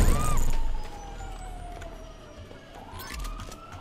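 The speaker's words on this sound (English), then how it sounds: "I don't think those sirens are for me." A wailing police siren in the video game Grand Theft Auto sweeps slowly down and back up in pitch, over a low engine rumble and scattered game noises.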